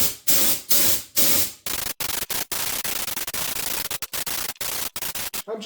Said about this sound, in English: You can squeeze lightly the trigger without releasing any paint, just to blow off any dust that may just landed on your item.